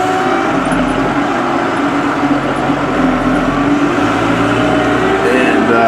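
An AGCO White 6710 tractor runs steadily, heard from inside its air-conditioned cab while spreading slurry, a loud constant engine drone with a faint voice under it.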